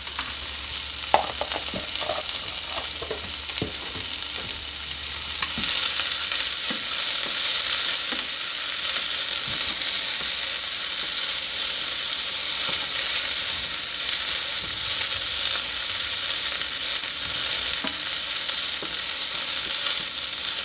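White onions fry in a pan with a loud, even hiss that holds throughout, dotted with occasional soft knocks and stirs early on and no speech.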